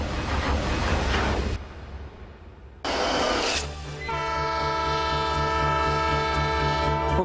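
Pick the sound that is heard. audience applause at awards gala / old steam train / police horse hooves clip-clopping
old steam train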